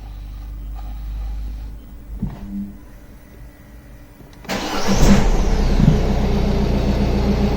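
A Peugeot 508 1.6 HDi diesel engine cranks with a brief whir after a fuel filter change, then catches and roars to life, settling into a loud steady idle close by.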